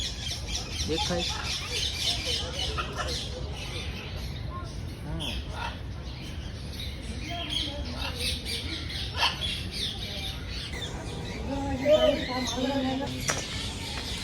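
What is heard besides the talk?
parrot squawking at a zoo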